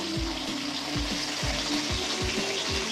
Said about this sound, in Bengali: মাছটা ভেজে নিই, কাতলা মাছের পেটি